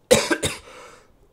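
A single close, sharp cough with two quick bursts, then trailing off into quiet.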